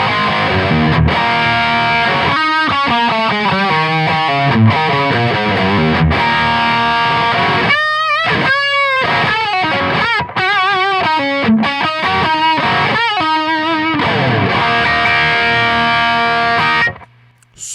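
Heavily distorted electric guitar runs through an MVAVE Tank pedal simulating a 5150 amp, miked at the speaker, playing loud chugging chords and riffs with bends and slides, continuous and dense with no talking.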